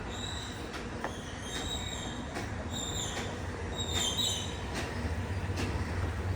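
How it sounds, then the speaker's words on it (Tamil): A train runs past near a rooftop in a quiet residential area of Korattur, with a steady rolling rumble and repeated wheel squeals and rail clicks. The passing noise holds at a constant level throughout, with no talking. "பக்கத்தில் ட்ரெயின் போயிட்டுருக்கு."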